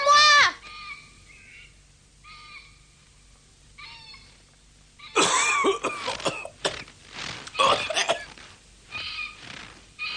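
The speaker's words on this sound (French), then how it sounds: "Tu tousses beaucoup, je trouve." Several rough coughs and throat-clearing noises come in bursts, nearby, with quiet gaps between them and a longer run of hacking toward the end.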